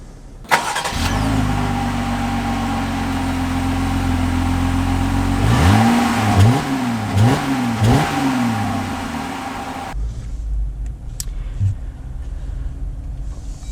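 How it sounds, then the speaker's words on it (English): A 2020 Jeep Gladiator Sport engine cranks and catches, settles into a steady idle, then revs several times as the truck pulls away, loud and close, before the sound drops off sharply. "We are setting off here in the Gladiator"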